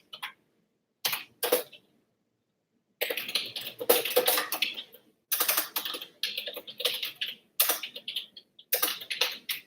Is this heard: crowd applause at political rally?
no